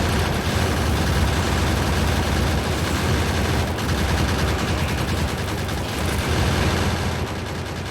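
Gun turrets firing nonstop at biters in the Factorio game, a loud dense rattle of automatic gunfire with machine rumble beneath, unbroken throughout.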